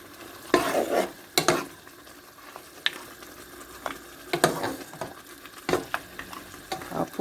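Meat tipped into a pot of Nigerian assorted meat stew and stirred, giving close, irregular clatters and scraping knocks over a soft background simmer.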